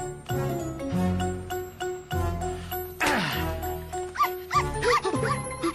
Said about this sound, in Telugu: కుక్కని తెచ్చావేంట్రా?